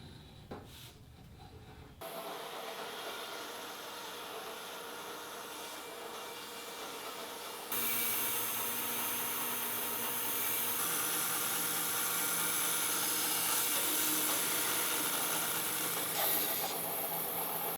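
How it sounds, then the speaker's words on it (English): A bandsaw rips through cherry bed posts, a steady loud whine and rasp of blade on hardwood that holds for many seconds and grows slightly louder midway, close and without talk. "this is the face I'll have down at the bandsaw when I go to rip these posts"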